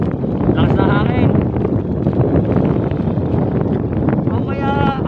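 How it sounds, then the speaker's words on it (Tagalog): Strong wind buffets the microphone in a steady, loud rush, with voices briefly audible near the start and end. "Lakas na hangin."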